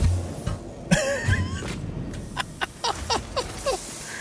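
A person coughs during a session of the factory-building game Satisfactory, with sharp, close bursts near the start and then a run of shorter throat sounds and hisses, and no speech over it.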